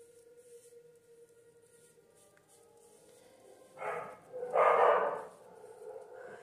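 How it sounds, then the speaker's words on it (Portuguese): Dogs bark a short distance away, two quick bursts of barking that rise over an otherwise quiet indoor background. "os cachorros estão latindo"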